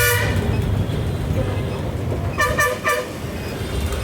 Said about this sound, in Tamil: ட்ரெயின் வரும்னு நினைக்கிறேங்க.